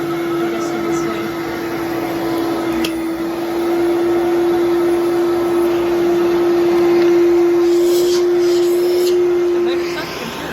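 An 11 amp Fantom Domestic household vacuum cleaner with a new-old-stock HEPA filter runs steadily, its motor producing a loud, constant whine with airflow hiss, occasional bumps and brief pitch shifts as it sucks against fabric.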